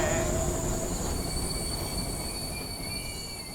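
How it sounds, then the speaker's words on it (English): A train rumbles steadily along the tracks with a high metallic squeal of wheels, slowing as it comes to a halt; no one speaks. "Oh, they stopped the train."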